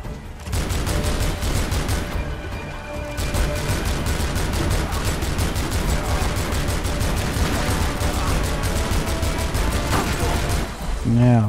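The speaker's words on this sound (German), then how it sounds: "Wer hat da geschossen?" Rapid gunfire in the video game Tomb Raider Underworld, sustained bursts of automatic shots fired in quick regular succession, loud and close, with mechanical clatter under them and a brief lull early on.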